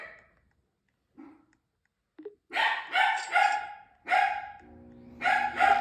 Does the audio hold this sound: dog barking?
yes